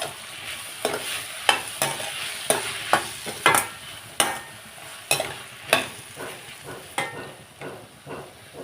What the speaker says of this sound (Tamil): இப்போ கத்திரிக்காயும் நல்லா வதங்கட்டும்